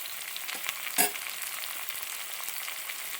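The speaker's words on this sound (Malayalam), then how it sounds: "ചെറിയ ഉള്ളി അരിഞ്ഞത്, അതിട്ട് ഇളക്കി കൊടുക്കണ്ടേ" Chopped shallots fry over medium flame for a Kottayam-style duck curry, a soft steady sizzle close by with a few scraping stirs and one sharper clink, no voices.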